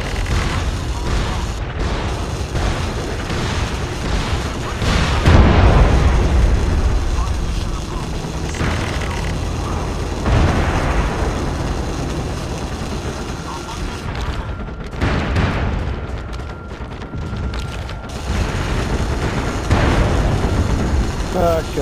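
Mortar explosions in the online shooter MAG, a defending battle: repeated heavy booms and gunfire rumbling amid continuous battlefield noise, with voices talking throughout.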